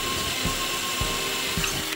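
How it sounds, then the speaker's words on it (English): A power drill with a 1/4-inch bit bores pilot holes into a wall for towel rack anchors, a faint steady whir with a few brief bursts of effort and no talking. "Next, I'm gonna use my 1/4 drill bit to drill out the two pilot holes on each side."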